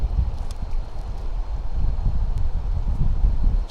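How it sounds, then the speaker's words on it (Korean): Strong gusting wind buffets a drone flying over a clifftop above a valley, a dense low rumble of air that surges and stays loud throughout. "바람이 세답니다. 바람이 세대."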